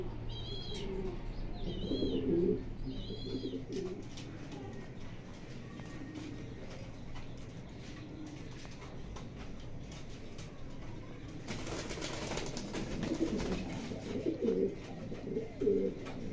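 Racer pigeons of a foreign bloodline, a giant-sized breeding pair, coo repeatedly in soft rolling calls with a few chirps, over steady low background noise and occasional rustling.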